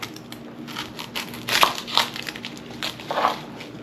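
A small onion being cut on a board for Carolina reaper hot sauce, with a few crisp, crunchy knife strokes in quick irregular succession, close and fairly quiet with no talk.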